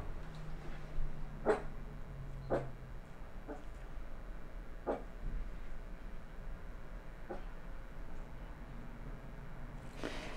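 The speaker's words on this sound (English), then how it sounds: "So if you hear the little barking" A small dog barks in sharp, separate yips, about six spread over several seconds, faint and somewhat distant against a steady indoor background hum.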